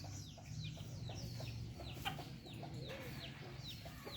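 Stray chickens taken in at a shelter for disabled stray dogs cluck in short, repeated bursts, fairly faint and steady against a low background hum, with no one speaking.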